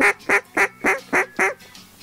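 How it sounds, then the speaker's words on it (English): Six evenly spaced, loud quacks come from a duck call blown by a hunter in a duck blind, a sharp rhythmic cadence that trails off at the end, with no talking over it. "if you wanted to blow your duck call"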